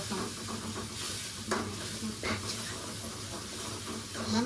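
Potatoes sizzle and hiss in a hot pan in a home kitchen, with occasional stirring scrapes, a steady close frying sound throughout.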